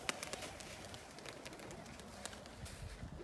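Pigeons coo softly in a loft over a constant background hiss, the low calls faint and blended, with occasional light taps and flutters.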